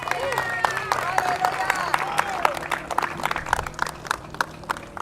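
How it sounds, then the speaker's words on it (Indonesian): A church congregation claps their hands in a fairly even rhythm during a service, with voices heard over the clapping. "Tepuk tangan buat Tuhan."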